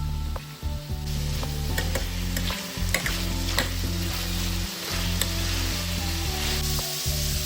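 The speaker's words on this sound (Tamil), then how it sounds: "இதோட கொஞ்சம் ஆயில் சேர்த்து நல்லா பிரட்டி விட போகிறேன்" Half-cooked kohlrabi tossed in oil in a pan, a loud close sizzle with clattering stirring scrapes throughout, no talking.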